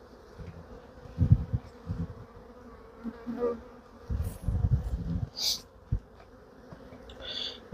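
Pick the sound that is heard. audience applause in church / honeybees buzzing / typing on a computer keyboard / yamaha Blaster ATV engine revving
honeybees buzzing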